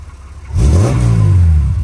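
A 1987 Chevrolet Opala Diplomata in neutral, its engine roaring up from idle into a loud, sustained rev with rising pitch, close by, no one talking over it.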